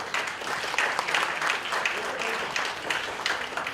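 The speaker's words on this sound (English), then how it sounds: "Can we give those guys a big round of applause?" A crowd claps steadily in a dense wash of applause, fairly close, continuing throughout without pause.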